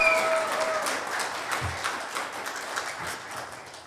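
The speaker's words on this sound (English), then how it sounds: "So first, I just want to give an extra applause to Penelope and Oliver and Marenna." Indoor audience applause after a church gathering, a dense wash of many hands clapping steadily for a few seconds and slowly fading.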